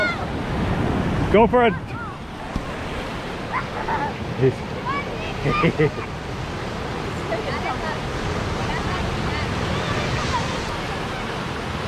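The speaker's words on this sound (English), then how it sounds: "There's waves now." Ocean surf at the beach in Yelapa, where a strong current runs, washing in as a steady broadband roar throughout, with people talking and calling out over it.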